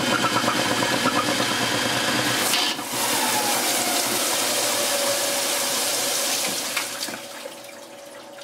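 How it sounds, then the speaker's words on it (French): Powerful water jets drive a spinning Schauberger turbine, a loud rushing, hissing roar that shifts in character around three seconds in and drops lower near the end. "les jets sont très forts, sont très puissants, suffisamment puissants pour être capable d'arrêter la turbine sur son élan"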